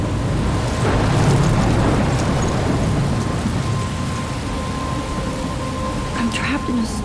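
Rain and a thunderstorm in the video game Life Is Strange: steady, dense rainfall with a low rumbling roll of thunder, continuous and fairly loud, with a faint tone and brief sounds near the end.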